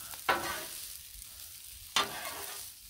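Leftover fried rice heats on a Blackstone griddle with a soft steady sizzle, broken twice by sharp scraping stirs of a spatula, close and fairly quiet.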